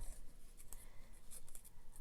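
Pencil scratching on paper while marking a scrap for a paper bag notebook craft, a faint, soft scribbling with a few short strokes, close and quiet.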